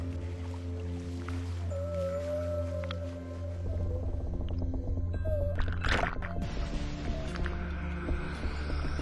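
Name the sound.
whale sound effect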